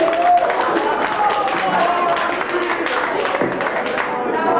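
Concert audience in a club applauding a band, a steady dense roar of clapping and crowd noise, loud and continuous with no break.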